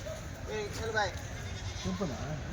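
Sheep and goats bleat in brief wavering calls at a Tuesday livestock market in Kadiri, several short cries over a crowded background, with people talking throughout.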